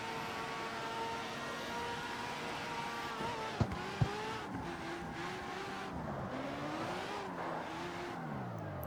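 Han's Tokyo Drift Mazda RX-7 in the driving game CarX Street, its engine revving up and down steadily while driving, with two sharp clicks partway through.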